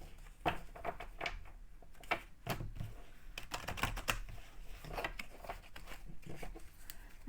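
Tarot cards are shuffled by hand, giving quiet, close, irregular bursts of flicking and riffling papery clicks across the whole stretch with no talking.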